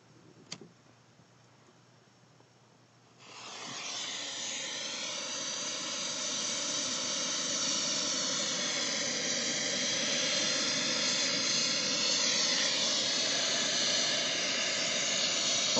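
A high power rocket motor burning on a static test stand: after a few seconds of quiet, a sudden steady roaring hiss starts and holds loud and continuous to the end.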